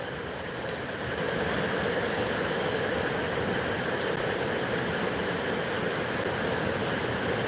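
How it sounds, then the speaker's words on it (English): Steady, cold rain falls continuously ahead of a big storm under a tornado watch, a dense hiss of drops pattering on surfaces close by, with no voices. "rain is cold."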